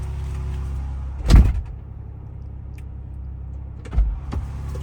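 Two heavy door thumps on a 2021 Ford Bronco a few seconds apart, the door failing to shut because the window is frozen, each followed by a dull rattle, over a steady low vehicle hum.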